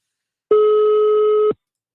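A single ringback tone sounds for about one second on a telephone call placed to a bank, loud and steady and then cut off into silence.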